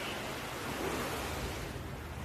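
Waves wash in and out on a tropical beach, a soft, continuous hiss of surf with gentle swells in level, fairly faint and steady, and no talking.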